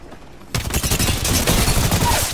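Gunfire in the Apex Legends video game: after a brief quiet moment, a dense, loud burst of rapid automatic shots erupts and continues in a sustained rattling volley up close.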